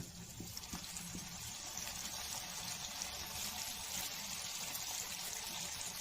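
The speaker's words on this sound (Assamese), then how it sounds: "তেল গৰম হৈ গ'ল এতিয়া এটা এটাকৈ পিঠা এৰি দিম" Mung bean pitha frying one by one in a generous amount of hot oil, giving a steady, dense sizzle and crackle that runs unbroken throughout, with no talking.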